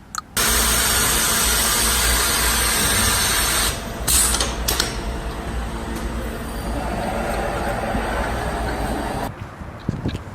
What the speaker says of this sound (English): let's go ahead and get this tire mounted onto this wheel